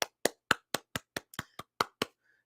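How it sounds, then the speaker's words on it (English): About ten sharp, evenly spaced hand claps from a single person, close and distinct, with silence between each clap. "Let's give a great big round of applause for that."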